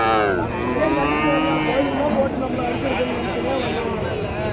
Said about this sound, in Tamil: இதுதாங்க மாடு